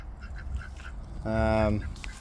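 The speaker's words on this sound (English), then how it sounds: "So here's the ducks and the goose." Ducks quack softly in short bursts, then a goose gives one loud, drawn-out honk nearby.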